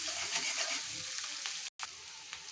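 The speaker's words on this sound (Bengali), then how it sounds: "তেল দিয়ে নেব, পেঁয়াজ, কাঁচামরিচ, রসুন দিয়ে ভালো করে নাড়তে হবে।" Onion, green chili and garlic stir-frying in hot oil for spinach bhaji, a continuous close sizzle with soft spatula scrapes and brief clicks, cut by a short silent gap.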